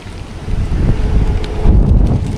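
Strong wind rushes and buffets the microphone on an open boat at sea, with a low engine rumble and water noise underneath.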